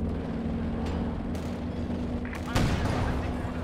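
Artillery barrage in a World War II strategy game: a steady low rumble of battle with scattered shell impacts and a heavy booming blast near the end, under faint background activity.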